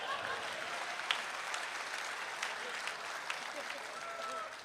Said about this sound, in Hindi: ताली तो जोर से बजा दो।